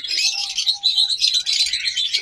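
A yellow pair of pet birds at a bird sale chirps and tweets continuously, with bright, busy calls overlapping close by and no talking.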